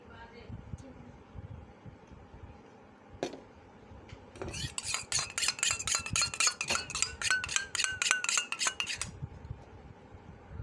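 A utensil stirs ketchup mixed with a few drops of iodine in a small container, at first with soft scraping and occasional taps, then a run of quick, loud metallic clinks and rattles for several seconds before it eases off.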